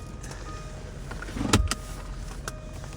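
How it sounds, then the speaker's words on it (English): Folding electric mirrors on a 60th edition sports coupe whir briefly, one short motor burst near the middle of a quiet, steady background. "Folding electric mirror package, which was an optional extra as well."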